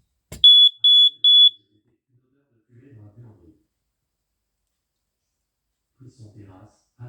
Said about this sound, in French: Donc là, il y a un détecteur de fumée ici.